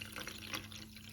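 Water trickles into a ladle holding sugar in a home kitchen, a soft continuous pour with faint dripping, quiet and close.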